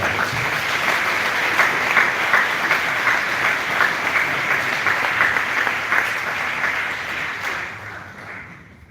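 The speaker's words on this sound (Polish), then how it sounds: "Także jeszcze raz dajmy sobie ogromne brawa." Audience applause after a call for a big round of clapping at a Polish live event, dense and loud from a large crowd, sustained for several seconds before tapering off at the end.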